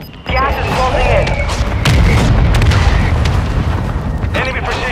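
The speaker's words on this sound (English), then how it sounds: "Hostile mortar strike near your position." Mortar strike explosions in a battle royale video game boom loudly and rumble on continuously, with heavy low blasts stacking over one another for several seconds.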